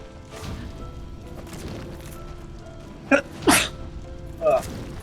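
A single sharp sneeze bursts out loudly and close, followed by a second burst and a brief vocal sound, over quiet background talk during a Dark Souls gameplay commentary.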